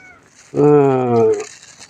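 A cat lets out a single loud, drawn-out meow up close, lasting about a second.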